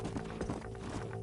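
Horses' hooves clip-clopping in the Red Dead Redemption video game, a quick run of close, loud hoofbeats lasting about a second, with a faint whinny-like tone in the mix.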